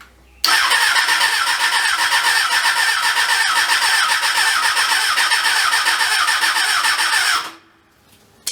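A Kawasaki ZXR 400 motorcycle engine cranks steadily for about seven seconds without catching, its fuel line from pump to carburettor left disconnected, a loud continuous whirring starter drone that stops abruptly.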